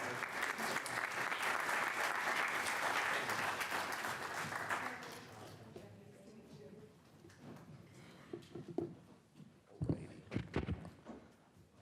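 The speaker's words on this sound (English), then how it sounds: "A round of applause." Audience applause at a town board meeting, a steady sustained clapping from a room full of people for about five seconds before fading into scattered hand claps, shuffling and movement as people settle.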